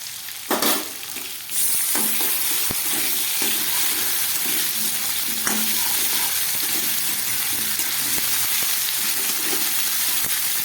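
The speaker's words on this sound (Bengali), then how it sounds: "নুন হলুদ দিয়ে ভাজা হয়ে গেল" Steady sizzling of potato and pumpkin frying in oil with salt and turmeric, with occasional scrapes and clinks of a spatula stirring the pan, close and continuous throughout.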